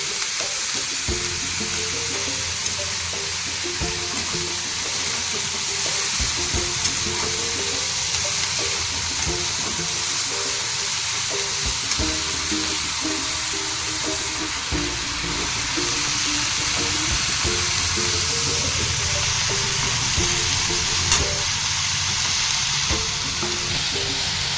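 Continuous crackling sizzle of cauliflower frying in oil in a wok, with occasional stirring clatter against the pan, steady and close, without talking.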